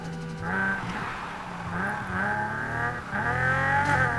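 A modded car cornering and sliding in Need for Speed Heat, with a revving engine rising and falling in pitch through the turn and a tonal tire squeal, steady and close, no talking.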